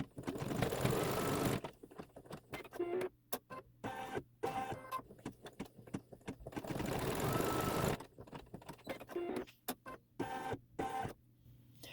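A sewing machine stitches a Santa's workshop quilt block in two long continuous runs, broken up by short stop-and-start bursts of stitching. It is fairly close and no one speaks.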